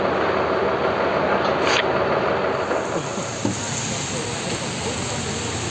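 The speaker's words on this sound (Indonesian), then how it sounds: "Ya, bisnya udah siap berangkat dan cuaca saat ini hujan." Rain falls steadily outside a waiting Agra Mas double-decker sleeper bus, a dense hiss of drops that holds throughout at moderate loudness.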